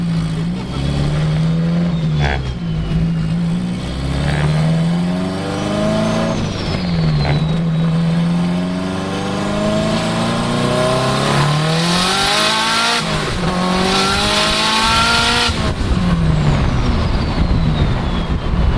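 A car accelerates hard through its gears on a road, engine pitch sweeping up and dropping at each shift, with the tires losing traction in third and fourth gear because of the suspension; the engine stays loud and close throughout.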